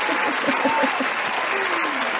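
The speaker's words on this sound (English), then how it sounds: "Oh, you had a really long applause." Applause from participants of a virtual startup pitch night, a continuous dense patter of clapping that stays steady from start to finish with no talking over it.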